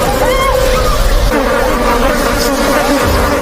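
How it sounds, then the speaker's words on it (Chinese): A dense swarm of flies buzzing loudly and close, a continuous droning hum with wavering whines layered over it and no pause. "紧接着他们又听到了大量苍蝇的声音"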